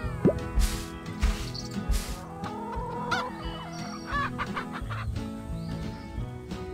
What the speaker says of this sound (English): And we need to feed the chickens.